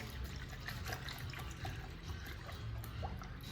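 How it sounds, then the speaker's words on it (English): Apple cider pours steadily into a container for a turkey brine, a continuous close liquid splashing and trickling with no voices. "Pouring it right in."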